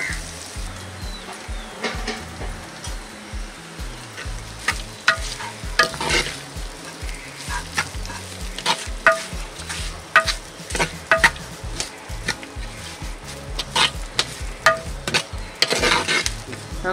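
Onions, green chillies and rice stirred and fried in ghee for Jaffna-style ghee rice: a continuous soft sizzle with repeated scraping and clinking stirs of a utensil against the pan, close up and without talk.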